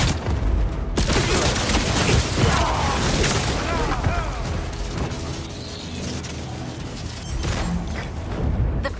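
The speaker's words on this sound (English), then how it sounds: "Opening fire!" Gunfire in the Marvel's Spider-Man 2 video game, with dense bursts and booms running continuously under loud game music and effects, with voices speaking over the mix.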